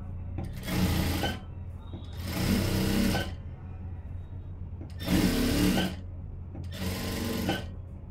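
A sewing machine stitches along the edge of a blouse in four evenly spaced bursts of close, steady whirring, each lasting about a second and separated by short pauses.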